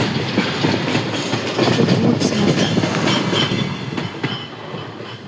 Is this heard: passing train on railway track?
yes